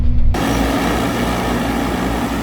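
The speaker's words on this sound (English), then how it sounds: "took a bunch of video of the drones spraying" Loud, steady whirring drone of two agricultural drones spraying a potato field nearby, continuous with no pauses.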